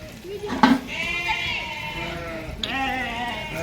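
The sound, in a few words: goats bleating in a pen before milking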